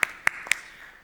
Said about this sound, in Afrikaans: Geef vir 'n klap.